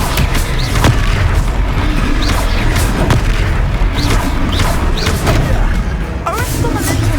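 Spell impacts from an Expelliarmus duel in the video game Hogwarts Legacy, heard as repeated loud booming blasts over a dense, continuous battle din, with voices talking throughout.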